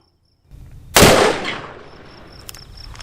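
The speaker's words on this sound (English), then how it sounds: "Let's shoot this last one across the chronograph." A single sharp, loud gunshot from a Ruger Alaskan .454 snub-nose revolver fired across a chronograph outdoors, a quick crack that rings out into a decaying echo.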